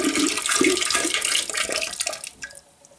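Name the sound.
antifreeze being poured into toilet bowl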